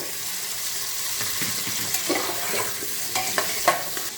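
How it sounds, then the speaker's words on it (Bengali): Beetroot and carrot pieces being stirred into potatoes in a frying pan for street-style pav bhaji, a steady soft sizzle broken by a few light scraping stirs near the end, with no talk. "তার মধ্যে দিয়ে দেবো যেমন পারি সেরকম কেটে রাখা অল্প একটু বিট আর একটু গাজর"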